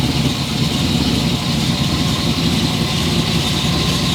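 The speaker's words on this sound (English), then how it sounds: "Should we try the other engine?" A cheap used yacht's second engine running, a steady loud rumbling drone with a low throb that holds even throughout, with no talking over it.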